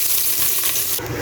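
Garlic and onion sizzle in hot cooking oil in a pot, a bright steady frying hiss with a fresh burst of crackle partway through as more goes in, close and without talk.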